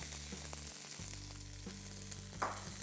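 A handful of garlic and small shallots frying in hot ghee, a steady low sizzle with soft stirring knocks and one brief sharper crackle near the end, fairly quiet and without talk.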